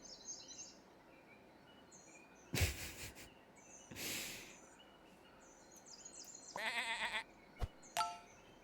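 Sheep bleating in the video game Dredge, a few short bleats spaced apart among faint bird chirps, quiet overall with sharp louder bursts of other game sounds.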